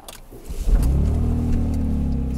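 A smart car engine with a small hole in its exhaust revs up close by on a Greek road, rising quickly into a loud, raspy, steady drone.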